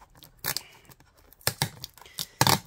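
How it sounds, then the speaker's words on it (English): Packaging tape being peeled off a Brew Dr. organic raw kombucha box, heard as several short close-up tearing, crinkling bursts separated by brief pauses. "Let's peel this off."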